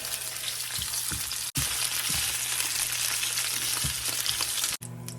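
Chicken pieces for sweet and sour chicken frying in hot oil in a pan, a loud steady sizzle with scraping stir knocks as the meat is broken up, briefly cutting out twice.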